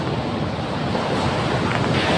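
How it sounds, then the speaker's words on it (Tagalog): Big Pacific Ocean waves in a storm off Samar roar and crash in a continuous dense wash of surf mixed with wind buffeting the microphone, loud and close, with no voices. "Malaki pa rin ang alon."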